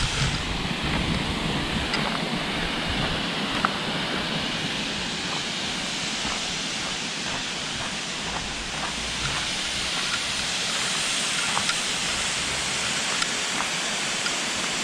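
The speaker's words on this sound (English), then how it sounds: "Let's take a closer look at this waterfall." A mountain waterfall in snowy Sikkim roars as a loud, steady, broadband rush of falling water, continuous and close with no pauses.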